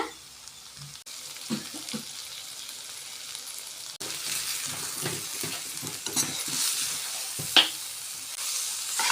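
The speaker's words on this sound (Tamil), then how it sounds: "இப்போ பெப்பர் போட்டு ஒரு பரட்டு பரட்டி விட்டுக்கலாங்க" Soya chunks stir-fried with pepper in a pan give a crackling sizzle with repeated spatula scrapes and stirring clatter, close and fairly loud, brightening midway with one sharp clink.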